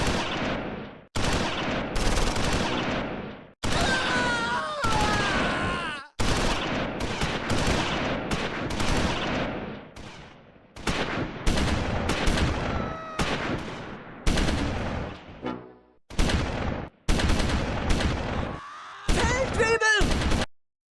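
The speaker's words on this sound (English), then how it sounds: "Second platoon concentrates fire on the remaining infantry." Gunfire in the WWII strategy game Close Combat 4, set at the Battle of the Bulge: loud, dense bursts of rifle and machine-gun fire crackle in rapid volleys with brief gaps, like a sustained firefight.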